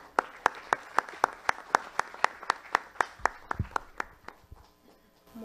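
Audience at a democratic forum in the Congress of the Republic welcoming Dr. Leni Palma Encalada, heard as a sparse, evenly spaced run of single sharp hand claps, close and crisp, thinning out and fading near the end.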